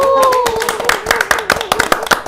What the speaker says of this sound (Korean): 모두 박수 부탁드리겠습니다